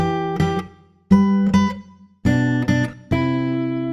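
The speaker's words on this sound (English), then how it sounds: "So let's take, for example, an acoustic guitar" An acoustic guitar strums a few chords with pauses between them, each ringing out warmly and decaying, played up close.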